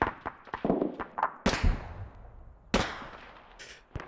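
Gunfire in a war simulation video game: several sharp shots crack close and loud, each trailing a long echoing decay, with a few quieter taps between them.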